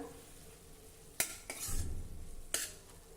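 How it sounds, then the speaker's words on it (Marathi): Radish pods being stir-fried with coarse roasted peanut powder in a pan: a soft background sizzle broken by a few sharp spatula knocks and one scraping stir, close and quiet. "अजून एक दोन मिनिटासाठी असंच आपण हे परतून घेऊ"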